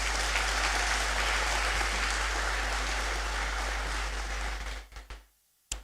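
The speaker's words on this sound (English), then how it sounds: "Please let's welcome her with a round of applause." Lecture hall audience applauding loudly and steadily for about five seconds at an inaugural lecture, then the clapping stops abruptly into near silence.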